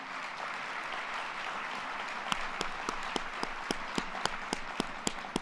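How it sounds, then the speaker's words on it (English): Audience at a Winnipeg Chamber of Commerce address applauds in a steady, dense wash of clapping, with a few sharper individual claps standing out toward the end. "Can we give them a round of applause and thank them?"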